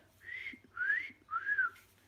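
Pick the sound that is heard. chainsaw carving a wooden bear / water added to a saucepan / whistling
whistling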